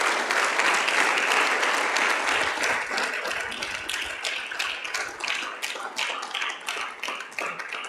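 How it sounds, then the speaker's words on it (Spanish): A church congregation claps loudly and continuously, the dense applause thinning into more distinct individual claps toward the end. "Le damos un aplauso fuerte al Señor."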